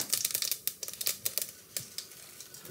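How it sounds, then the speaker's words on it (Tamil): Mustard seeds splutter and pop in hot oil, a close, busy crackle of rapid, irregular sharp pops with no talking. "கடுகு வெறிஞ்ச பிறகு"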